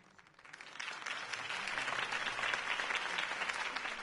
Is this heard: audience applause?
yes